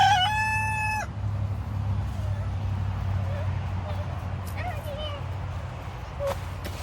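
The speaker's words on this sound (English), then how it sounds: "How many times did you hear the rooster crow?" A rooster crows once, loud and clear at the very start, then fades into a quiet outdoor garden scene with a low steady hum and faint scattered bird calls.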